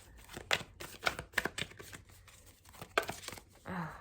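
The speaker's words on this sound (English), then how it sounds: "my shuffling has been like janky recently." Tarot cards riffle and slap together in quick irregular bursts, close by, with papery crinkling and a short pause before a final soft rustle.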